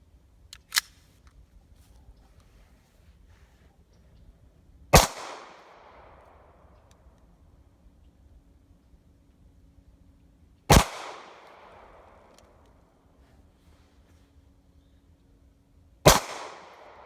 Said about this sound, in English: Now it's going to be time for me to take a few shots. First 8 out of a high point C9.